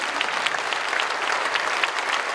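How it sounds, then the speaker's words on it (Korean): A large audience claps loudly and steadily at a Korean church prayer meeting honouring Korean War veterans, with dense, continuous applause and no speech over it. "또 한 번 박수해 주시면 고맙겠습니다."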